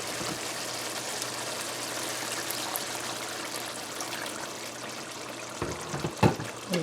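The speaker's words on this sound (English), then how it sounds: "our pork is still hard, it's not boiled yet, so we're gonna add some water." Water poured into a pot of stewed pork, a steady, bright splashing stream for several seconds before it stops, followed by a few clunks near the pot.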